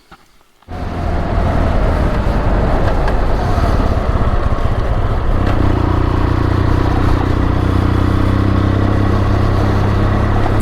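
A motorcycle rides on an outback road near Cameron Corner, its engine starting up abruptly after a brief quiet moment, then holding a loud, steady drone with wind rush close to the microphone.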